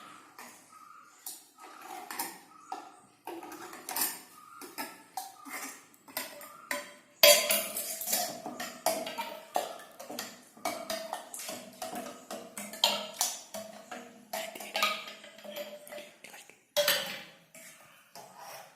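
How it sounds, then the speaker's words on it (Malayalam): Homemade grape wine mixture stirred in a container, giving repeated clinking and scraping knocks of a utensil against the vessel, close and moderately loud, coming in busy irregular bursts without talk. "ഇനി നമുക്കൊന്ന് ഇളക്കി കൊടുക്കാം."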